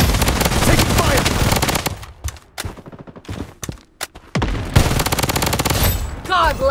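Rapid gunfire in the shooter game Blood Strike, loud dense bursts of automatic shots with a brief patchy lull midway before the firing resumes heavily, alongside game announcer voices.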